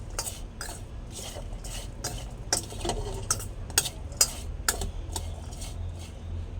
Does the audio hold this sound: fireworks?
no